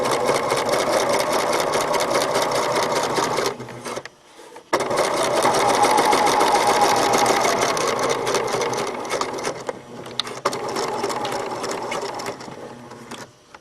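A sewing machine runs steadily while top stitching along an exposed zipper, a loud, even mechanical hum that stops briefly about halfway through, then resumes and runs to the end.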